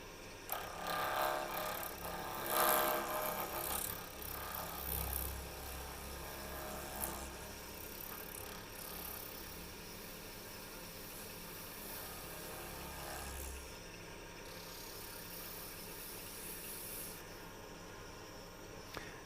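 Wood lathe spinning around 2,500 RPM while an EasyWood hollower rounds over the workpiece, a continuous dense hiss and scraping rasp with irregular louder bursts early on, steady motor hum beneath, no talking.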